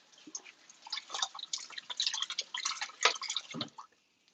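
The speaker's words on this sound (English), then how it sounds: "I'm going to strain off the water." Water from cooked shrimp and beef strained off in a kitchen, a steady run of splashing, dripping liquid that builds, stays busy for a few seconds, then tapers off, heard close with no talk.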